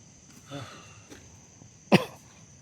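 A couple of soft throat sounds lead to one sharp, close cough near the end, otherwise quiet with a faint steady hum.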